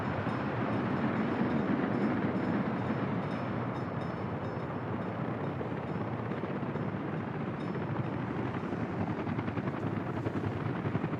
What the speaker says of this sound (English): got our trains running in here now